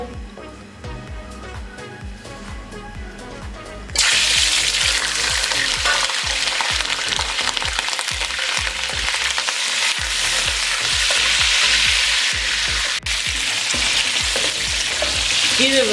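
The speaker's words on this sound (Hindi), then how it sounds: "अब इसी ऑयल में चिकन ऐड करेंगे और उसको 4 से 5 मिनट के लिए अच्छे से फ्राई कर लेंगे" Loud, steady sizzling of chicken frying in hot oil for a chicken korma, starting abruptly after a few quiet seconds, with occasional stirring clatter and no talking.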